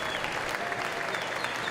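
LSU baseball crowd cheering and clapping to rally behind a pitcher, a dense, continuous wash of applause and voices with no pause, loud and close.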